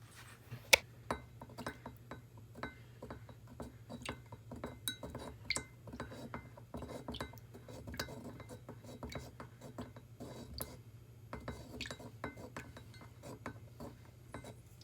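Vegetable oil and toner stirred together in a glass for ferrofluid, faint repeated clinks and taps of a utensil against the glass over a low steady hum.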